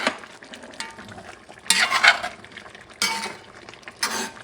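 Ingredients for a Persian chicken stew with cinnamon being stirred in a pot: bursts of scraping and clinking at about 1.7, 3 and 4 seconds over a quiet sizzling background, close and moderately loud, with no talking.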